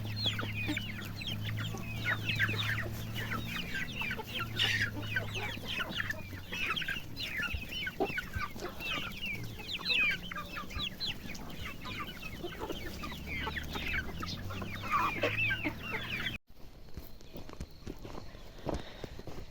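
Chickens cluck and chatter continuously at close range, with soft scratching footsteps on the ground; the sound cuts abruptly near the end to quieter clucking.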